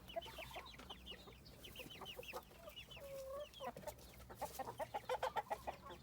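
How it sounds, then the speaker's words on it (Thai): Several egg-laying hens cluck nearby in a coop in quick bursts, with a longer squawk in the middle and a rapid run of clucks toward the end. "นี่มองไข่มันครับเข้ามาเก็บไข่ครับ"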